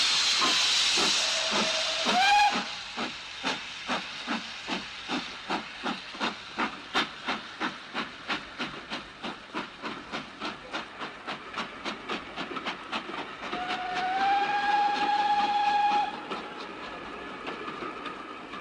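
A steam locomotive puffs steadily away from a station platform, its rhythmic chuffs clear and close, opening with a shrill whistle and a second whistle blast later over the continuing hiss.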